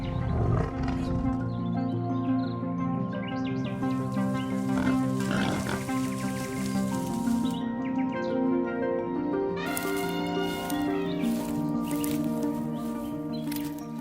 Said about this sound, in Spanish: El rugido del soberano rompe la neblina, se extiende sobre el mar de hierba y rebota en las montañas lejanas